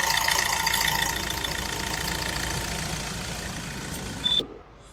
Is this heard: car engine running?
yes